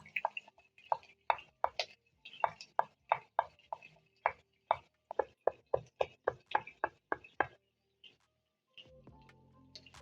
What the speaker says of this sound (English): smash using my knife, and finely dice.